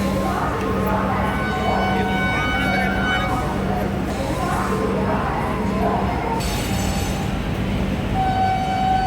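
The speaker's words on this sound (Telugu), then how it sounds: "your train has arrived on platform number 2" A train pulls in at a busy railway platform, its steady rumble and a long horn-like tone running throughout under indistinct background voices and announcements.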